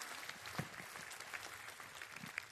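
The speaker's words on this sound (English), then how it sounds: "Let's have some applause for that one" Audience applause at a live national health event, a steady patter of clapping across the whole stretch with a few louder claps standing out, moderately distant and fairly subdued.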